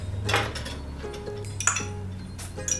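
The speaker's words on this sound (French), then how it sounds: "on va le faire à fourchette, puis ça devrait fonctionner. Ok, alors j'incorpore le sucre avec le beurre" A fork clinks and scrapes against a bowl while sugar is worked into butter, giving a few uneven metallic taps and scrapes at close range with no talking.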